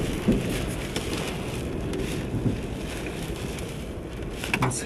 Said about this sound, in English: Things are smashing into my truck, and this is unreal. It's rain